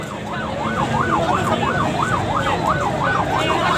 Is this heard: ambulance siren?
yes